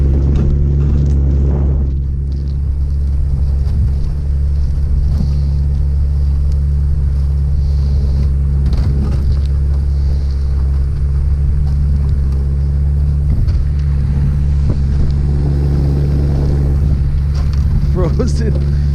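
A boat motor pushes forward through frozen water during a blizzard, giving a loud, steady low hum with scattered knocks and scrapes. Voices speak now and then over the engine.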